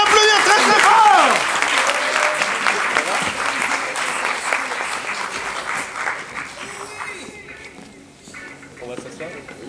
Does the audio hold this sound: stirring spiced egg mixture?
no